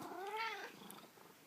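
A domestic cat gives a single drawn-out meow that rises and falls in pitch, close and fairly quiet, then fades into faint room noise.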